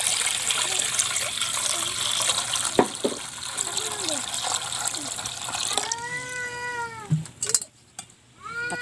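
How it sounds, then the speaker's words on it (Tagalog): Water gushes steadily into a cooking pot for a fish soup, a continuous splashing rush lasting several seconds, and then a cat meows a few times close by as the pouring tapers off. "maglagay na tayo ng tubig sa kaldero"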